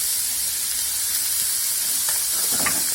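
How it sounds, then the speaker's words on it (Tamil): Onion, ginger and garlic sautéing in a pan for shark puttu, a steady close sizzle and frying hiss throughout with a few brief spatters near the end, no talk. "நல்லா இதை வதக்க வேண்டியதுதான்."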